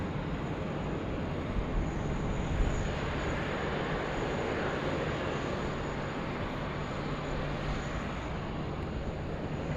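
Airliner taking off from runway 16 right at Sydney Airport at night, a steady broad roar of jet engines holding at an even level throughout, with no voices.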